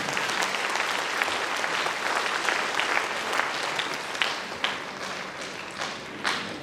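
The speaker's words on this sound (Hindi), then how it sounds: "क्या बात है, जोरदार ताली बक्सर के लिए।" An audience at a classroom lecture applauds steadily throughout, a dense wash of many hands clapping at moderate distance with a few louder bursts, no speech over it.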